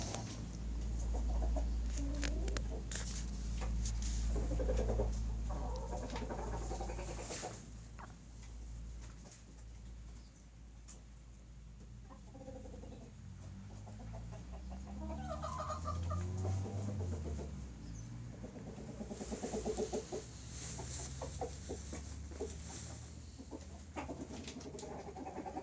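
Chickens kept for an egg business in Oral, West Kazakhstan, cluck and murmur continuously over a steady low hum, a busy flock heard close with no talk.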